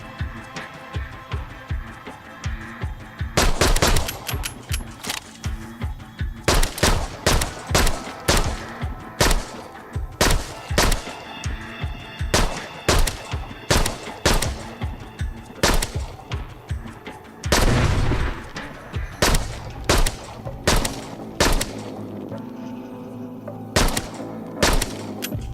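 A semi-automatic gun in the VR game Arizona Sunshine fires loud, sharp single shots in quick irregular bursts. The brief pauses between shots carry the quiet hum of the game's background.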